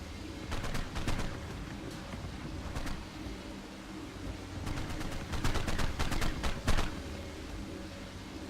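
Tranquilizer darts fired in Ark: Survival Evolved, Extinction, in rapid clustered volleys of sharp cracks over a steady background hum, with a dense burst in the second half.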